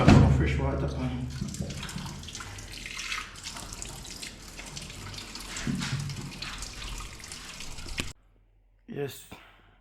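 Fresh water runs from a kitchen tap into a sink during soup cooking with beef, a steady splashing stream that carries on under background noise, then stops abruptly, followed by a short clatter.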